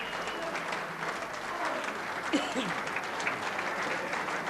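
Crowd applauding a darts checkout at a 1991 exhibition in a Townsville darts hall: sustained clapping from a sizeable audience, with a brief voice or cheer rising midway.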